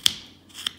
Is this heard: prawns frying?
no